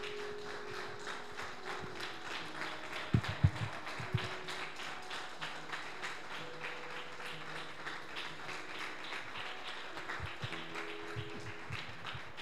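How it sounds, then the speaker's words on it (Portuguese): A church congregation clapping to glorify God, a steady rhythmic patter of many hands with a few louder thumps partway through and faint sustained tones in the background. "Você pode glorificar e exaltar a Deus com as tuas palmas?"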